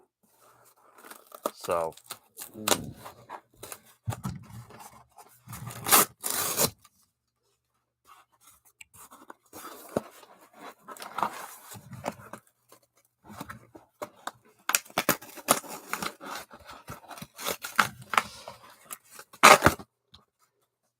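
Cardboard and paper packaging of a mystery box being torn apart by hand: a series of sharp ripping and crinkling bursts, close and fairly loud, separated by pauses, with a person talking between them.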